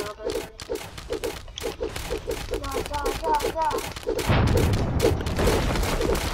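Weapon fire in a video game: rapid repeated shots in a quick rhythm, with busier, denser bursts toward the end, while a player talks over the action.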